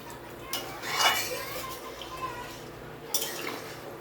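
Utensil scraping and clinking against a pot while thin Bengali fish curry (macher jhol) is stirred, a few distinct metallic taps over a soft, steady liquid background, close and moderately quiet.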